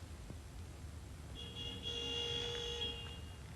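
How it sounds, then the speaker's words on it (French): Car horn sounding in the distance, a faint sustained tonal honk of roughly a second and a half over quiet background. "Vous entendez, il me klaxonne"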